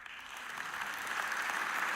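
A soft, steady applause sound effect plays at low volume, an even wash of clapping that swells slightly toward the end with no voices over it.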